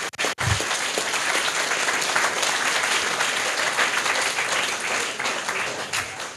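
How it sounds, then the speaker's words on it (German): Loud, sustained applause from an audience at a youth hackathon event, dense clapping filling the whole stretch after a brief pause at the start. "Eigentlich müssten Sie jetzt sehen, dass Sie sehr laut geklatscht haben."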